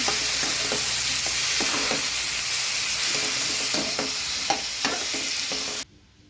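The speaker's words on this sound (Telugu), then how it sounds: "ఆ తర్వాత టమాటా కట్ చేసిన ముక్కలు కొంచెం దోరగా వేగేదాకా" Chopped tomato pieces frying in a little oil for tomato roti pachadi, a loud, steady close sizzle with scattered light spoon scrapes and taps throughout, ending abruptly in quiet.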